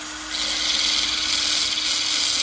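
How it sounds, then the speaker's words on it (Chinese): A worn, downsized cutting disc on a small grinder works the tip of a screwdriver, giving a steady, bright whine that rises after a brief moment and holds evenly to the end, with no voices. "打磨螺丝刀"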